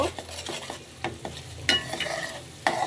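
Spice paste frying in a pan, low sizzle under quick repeated spoon scrapes and taps, a couple of louder clacks near the end.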